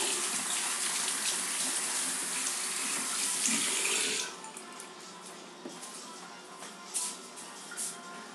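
Water runs steadily from a tap into a sink during hand washing, loud for about four seconds before dropping to a quieter trickle with small splashes.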